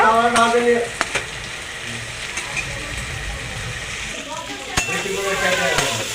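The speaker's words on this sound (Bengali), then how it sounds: "উচ্ছেটাও দিয়ে দেবো সেটা দিয়ে একটুখানি কষিয়ে নেব" Salted, turmeric-fried bitter gourd sizzles in spiced oil and is stirred, a steady close frying hiss broken by sharp spatula scrapes and clacks, with occasional quiet talk.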